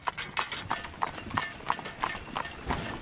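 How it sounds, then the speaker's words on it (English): Hooves of a horse pulling a carriage through a traditional Romanian village clip-clop in a steady, even trot, each hoof strike crisp and fairly close, with faint background noise between beats. "horse-drawn carriages are as common as cars"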